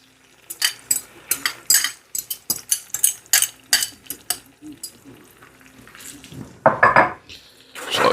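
A metal fork scrapes and clicks rapidly against a nonstick pan while scrambling eggs for Italian-American peppers and eggs with ham, a quick irregular run of close taps and scrapes with a soft sizzle and a louder scraping burst near the end.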